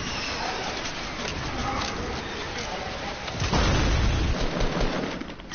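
Gunfire and a heavy blast in the Fortnite video game, distant shots followed by a loud rumbling explosion, with players talking.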